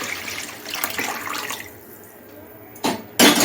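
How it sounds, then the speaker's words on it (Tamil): Tomato rasam being poured in a home kitchen: a soft, liquid trickle and splash, with a couple of louder splashing bursts near the end and no speech. "இப்போ அந்த ரசத்தை கூட்டி வச்சுக்கிற ரசத்தை ஊற்றிக்கலாம்."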